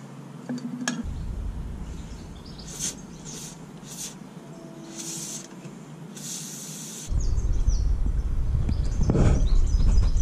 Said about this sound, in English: probably not really a good idea to squirt pretend WD-40 onto the lens of your GoPro